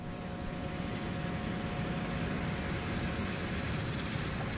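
Airliner engines roar in flight while losing power, a steady, dense broadband drone with a faint whine, unbroken and without speech.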